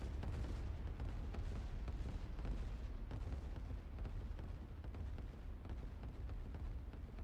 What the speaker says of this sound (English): here's our rockets again, rocket barrage